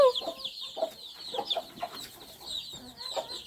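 Chickens cluck softly and repeatedly nearby, with scattered higher chirps from birds in the background.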